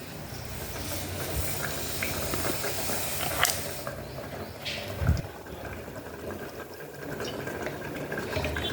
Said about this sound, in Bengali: এদিকে ঝোলটা ফুটে গেছে, আওয়াজ পাচ্ছ।